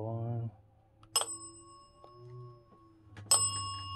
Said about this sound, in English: Turn the bell on.